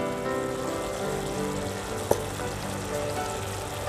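Clams sizzling in a pan as sweet soy sauce is poured in, a steady frying hiss with one sharp clink midway and a low background hum.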